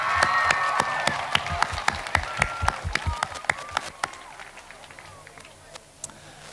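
Children clap in scattered, uneven bursts that thin out and fade toward the end, with a few sharp individual claps, at a 1999 dedication day festivity.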